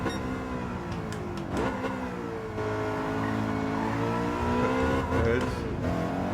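BMW race car engine in a racing video game, steady revving drone that drops through gears with pitch sweeps and brief blips, loud and close throughout.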